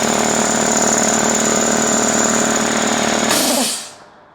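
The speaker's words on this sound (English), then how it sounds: "So this is my other compressor." A workshop air compressor runs steadily at full loudness, a constant mechanical drone with a high whine, then cuts off sharply near the end and winds down into quiet.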